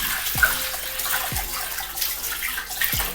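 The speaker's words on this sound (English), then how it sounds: "And so I'm gonna wash my hands." Tap water runs steadily into a sink while hands are washed, a continuous close splashing with a few dull knocks and no talking.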